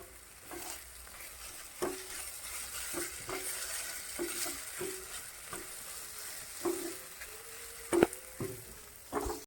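Spiced potato filling for egg devil stirred in a frying pan, with a constant soft sizzle broken by repeated scraping strokes of the spoon, close and clear with no talk.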